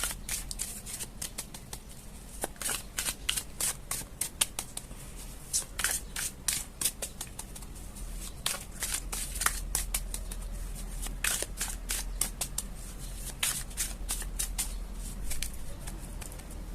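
Tarot cards being shuffled by hand, a long run of quick riffling flutters and soft slaps in irregular bursts, close and fairly quiet, no talking.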